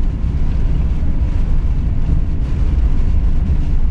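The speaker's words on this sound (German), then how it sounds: "wenn da halt so eine harte Windböe kommt" Hard wind gusts buffet a camper van on an icy road during a snowstorm near Nordkap, a loud continuous rushing roar with heavy low-end rumble throughout and no voices.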